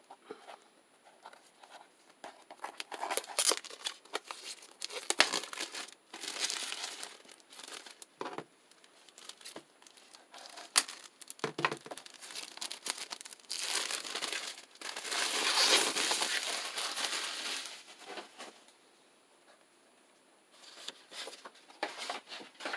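Crinkling plastic wrap around a pack of cardstock being cut with small scissors and pulled open, with bursts of rustling and tearing noises, close up, coming in uneven waves with short pauses.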